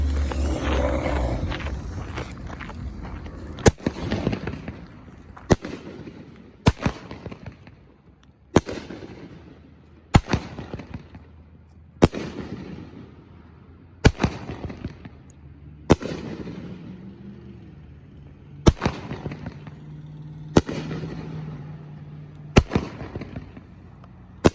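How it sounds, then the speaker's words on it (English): A Mammoth Peony 500 gram firework cake by Dominator Fireworks goes off with about a dozen loud, sharp bursts at roughly two-second intervals, each trailing off into crackle and echo, with no talking. "Mammoth Peony 500 gram by Dominator Fireworks."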